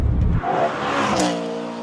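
A BMW E92 M3 with an MPE exhaust and secondary cat delete revs hard, its loud, close engine note rising and falling in one continuous burst with no talking.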